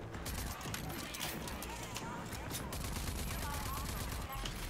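Rapid gunfire from shooting enemies in RAGE 2 rattles on continuously, dense and fairly quiet, with mechanical clatter mixed in.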